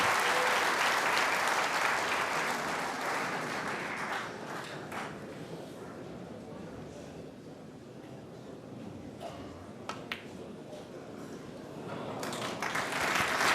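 A Crucible crowd at the Snooker World Championship applauds Kyren Wilson's century break: steady, dense clapping that swells loud, eases slightly mid-way, then builds again toward the end, with no voices over it.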